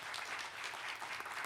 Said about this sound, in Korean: 여러분 큰 박수 주십시오.